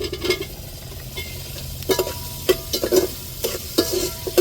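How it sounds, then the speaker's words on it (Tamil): Tomatoes and brinjal sautéed in a pan for a Tamil onion kuzhambu, a steady low sizzle under repeated scraping stirs and utensil knocks against the pan, close and moderately loud with no talking. "நல்லா கத்திரிக்காயவும் வதக்கி விட்டுக்குவோம்"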